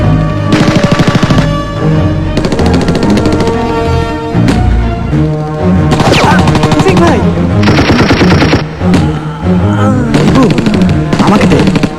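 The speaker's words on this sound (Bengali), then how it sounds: "আমাদের গুলি করছে, এখনই শুরু করতে হবে।" Sustained, loud bursts of automatic machine gun fire from a firefight around a rooftop bunker, rattling continuously across the stretch with brief gaps between volleys.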